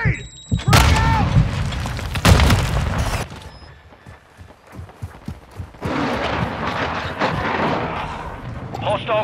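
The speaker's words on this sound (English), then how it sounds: "I'm hit! Grenade! Frag out!" Grenade blasts and gunfire in the Call of Duty Modern Warfare II game on the Mercado Las Almas mission, with loud booming explosions early, then scattered shots and thuds, and game voices calling out over the combat.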